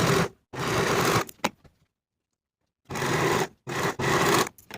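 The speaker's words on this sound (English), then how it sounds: "Sew these edges with a 3/8 inch seam allowance." A sewing machine stitches the edges of knit cardigan cuff pieces at a 3/8 inch seam allowance, running in two loud bursts of steady whirring with a silent pause between them and short stops within each run.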